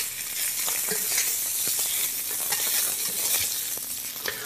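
Seitan browning in a frying pan gives a dense, continuous sizzle with scattered crackles and light utensil taps throughout, close and fairly loud, with no talking.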